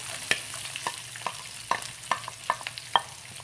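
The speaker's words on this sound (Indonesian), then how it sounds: "Sekarang akan saya mulai masukkan bawang," Onions stirred into a pan with Blue Band margarine sizzle softly, while a spatula taps and scrapes against the pan in a loose, repeated rhythm.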